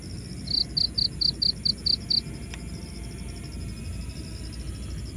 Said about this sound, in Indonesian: diiringi suara jangkrik.